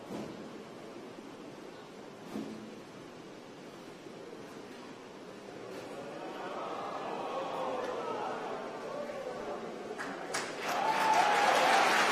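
Applause breaks out after a successful rocket first-stage landing during a launch webcast, a broad hissing clatter of many clapping hands that swells toward the end over a steady background noise.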